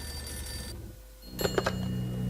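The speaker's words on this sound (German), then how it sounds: "Oh, Telefon." A telephone rings in the video game Max Payne, with two or three short electronic bell bursts that stand out clearly over a low steady game background.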